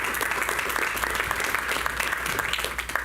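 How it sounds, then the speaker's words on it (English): People at a county and city collaborative meeting applaud Bill Floyd, a dense, steady round of clapping from a roomful of attendees, sustained evenly for a few seconds at moderate volume. "Y'all give Bill a round of applause."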